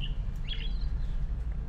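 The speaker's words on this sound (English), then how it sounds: "This is like a bird." Short bird chirps from a sound effect, a couple of quick high tweets over a low steady background rumble, brief and moderately faint.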